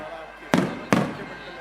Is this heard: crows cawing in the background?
no